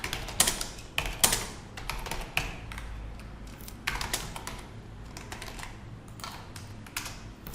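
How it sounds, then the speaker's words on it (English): Computer keyboard typing in a short irregular run of key clicks, some in quick bursts and others spaced apart, close and fairly quiet with no other sound. "So if I type something"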